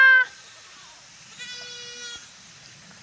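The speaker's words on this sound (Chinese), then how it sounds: "哇，他這裡還養了這麼多山羊啊！" Goats kept at a farmhouse in a remote Hunan mountain village give two close, nasal bleats, one at the very start and a longer one shortly after, over quiet surroundings.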